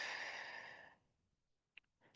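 A long, audible exhale through the nose drains away during a children's yoga belly-breathing exercise, close and soft, followed by quiet and a faint sniff.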